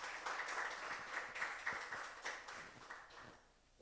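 A church congregation applauds with a steady patter of clapping that fades out toward the end, somewhat distant and soft.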